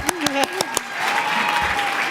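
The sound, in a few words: audience applause at a gala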